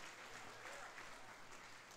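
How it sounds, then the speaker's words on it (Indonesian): A congregation at a GBI Pangkalan Jati church Christmas service in 2014 claps for God with even, sustained applause that sounds a little distant and quiet, and there is a faint trace of voices in the room. "Berikan tepuk tangan buat Tuhan kita."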